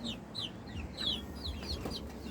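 Several chickens cluck and chirp in short bursts close by, over a low background rumble.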